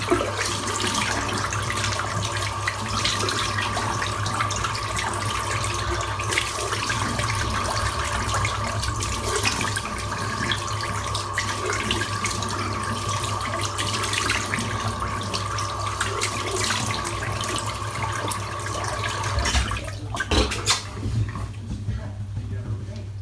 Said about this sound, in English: Now I might just rinse off my head as well.